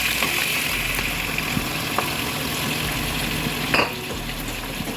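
Shrimp and thickly cut bitter gourd fry in a hot pan, giving a steady, even sizzle close up with a few faint clinks of utensils against the pan.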